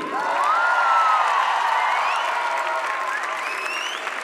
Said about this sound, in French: il y a une équipe technique, la vidéo, le son et la lumière, et on peut les applaudir